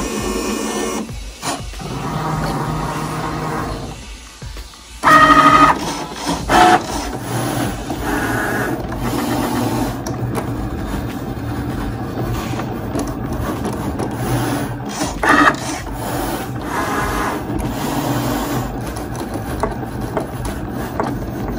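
A Cricut cutting machine slices paper bunting flags, giving a steady mechanical whir with ratcheting, clicking carriage movements and a few sharper clacks, running continuously near the listener without talk.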